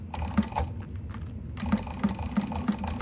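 A sewing machine top stitches along the top of a bag, giving a rapid mechanical clatter of needle strokes with a brief pause partway through, close and steady.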